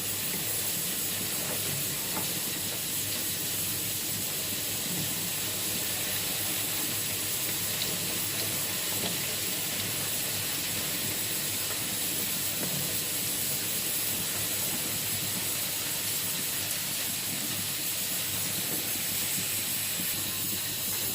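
Honey pastry dough frying in hot oil over a medium flame, a steady broad sizzling hiss that stays even and unbroken from start to finish, close by and with no voices.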